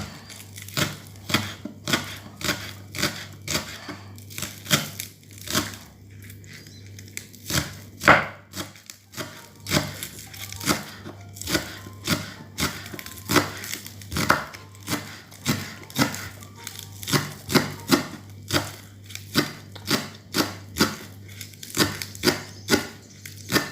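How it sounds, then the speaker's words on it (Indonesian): A knife chops onions small on a cutting board in a long run of quick, sharp, rhythmic strikes, heard close with no talking. "Bawang kita potong kecil-kecil."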